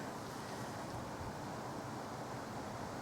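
Wind buffets steadily across the microphone at Caergwrle Castle near Wrexham, a dense, unbroken roar of gusty noise that fills the whole moment with no other sounds standing out.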